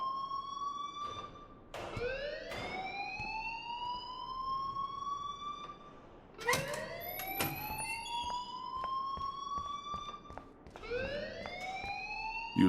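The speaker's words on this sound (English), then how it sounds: "please turn off that alarm since that's your job" An alarm in the Life is Strange video game wails in rising electronic sweeps, each climbing tone repeating every few seconds, loud and steady with no voices over it.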